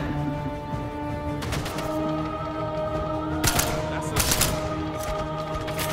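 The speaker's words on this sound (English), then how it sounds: "He's coming and shooting at me." Enemy gunfire in the video game Sniper Elite 5, sharp loud shots and a few close bursts cracking over a steady background hum of game ambience.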